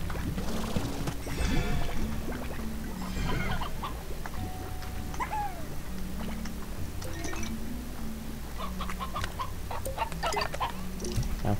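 Briar hens in the Slime Rancher video game cluck and murmur in a steady flock chatter, with scattered sharper calls and light game effects over a constant low hum.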